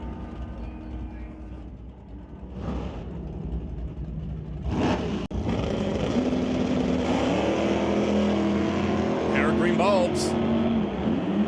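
Drag racing cars, a Nova and a Dart, roar into a launch and accelerate up the strip, their engines building to a loud sustained rumble. An announcer calls the race over the engines.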